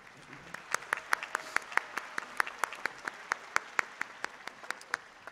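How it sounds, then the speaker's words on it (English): Applause for engineering graduates fills a university commencement ceremony, with a few distinct, evenly spaced claps standing out over a softer crowd clapping in the background. "A round of applause for the students of the Tagliatela College of Engineering."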